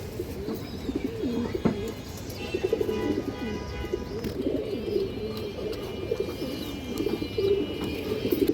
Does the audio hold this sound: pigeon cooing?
yes